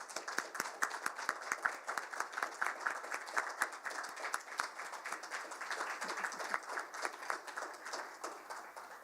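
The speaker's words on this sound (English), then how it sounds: "a big round of applause for the class of" A crowd at an audiology white coat ceremony claps steadily in sustained applause, many hands at once, fairly loud and continuous with no voices on top.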